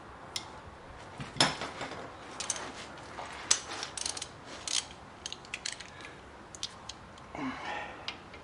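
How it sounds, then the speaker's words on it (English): A ratchet wrench loosens a bolt on the rear end of a 2007 Chevrolet Impala, giving sparse, irregular clicks and metallic ticks at moderate distance with quiet stretches between them. "I'm gonna have to use the ratchet on that one."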